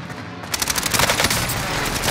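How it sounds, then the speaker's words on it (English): Rapid automatic gunfire in a first-person shooter game, a loud continuous burst of shots starting sharply and rattling steadily, with no talk over it. "Calling for airstrike on my target"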